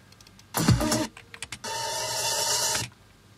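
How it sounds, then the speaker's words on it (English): A produced car crash sound effect in an electronic music track: a sudden heavy impact with a deep bass drop, a few choppy hits, then a sustained bright noisy wash with a rising tone that cuts off abruptly. "Car crash sound with a hi-hat and bass going up and all that."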